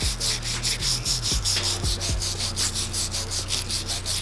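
Aircraft paint remover is scrubbed off a Honda B18C1 engine, giving a rhythmic, rasping back-and-forth brushing stroke that repeats steadily up close, with a few low knocks early on.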